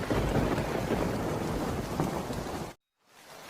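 Heavy cartoon rain pours down in a dense, loud hiss with a low thunder rumble, cutting off abruptly before a faint return of rain.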